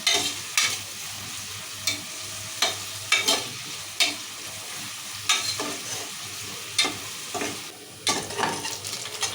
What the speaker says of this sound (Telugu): ఉల్లిగడ్డలు మంచిగా ఎర్రగా వేయగాలి నూనెలో ఎర్రగా అయిన వేయించుకున్నాం నూనెలో